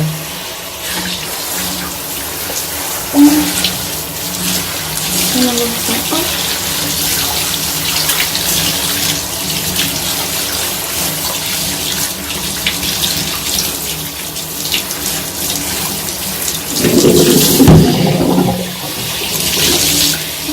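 Water runs steadily from a tap while coily hair is wetted and worked with conditioner, a continuous close splashing hiss with a brief louder burst of splashing near the end.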